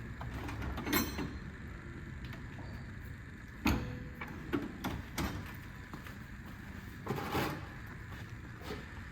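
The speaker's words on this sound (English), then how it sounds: "I'll grab our wrench." Scattered metallic clicks and clunks from an 18 wrench snugging a part during a Precision Raceworks port injection install on a BMW G80 engine, with a few sharper knocks standing out among quieter handling noises.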